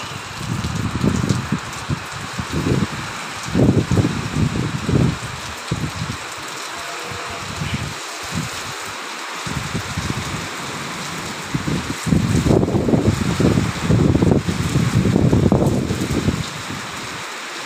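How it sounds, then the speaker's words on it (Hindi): Steady rain hisses down outdoors, with gusts of wind swelling in bursts of louder rushing noise. "बारिश मौसम।"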